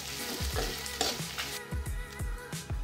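Onions and curry leaves frying in a kadai for onion tomato chutney: a steady, close sizzle broken by regular rhythmic knocks and scrapes of a spatula stirring against the pan.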